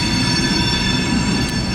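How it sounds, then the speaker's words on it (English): A local freight train in Tampa, Florida, backs tank cars into a customer siding, giving a steady, loud metallic rumble with high sustained wheel squeal tones, close by. "To the right there is a local train that backed into a customer here"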